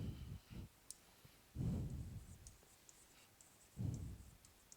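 A marker writes on a board in three short scratchy bursts of strokes, separated by quiet pauses, close and fairly soft.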